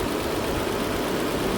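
A 2008 Nissan Altima engine with a lean-bank fault idles in a steady, continuous low rumble that stays even throughout, with no voices over it.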